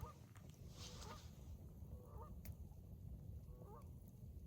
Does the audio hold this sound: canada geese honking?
yes